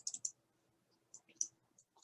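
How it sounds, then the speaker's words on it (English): A computer mouse gives quick, quiet double clicks: a tight pair of light ticks at the start, then another pair of clicks about a second later, in a near-silent room. "Double click."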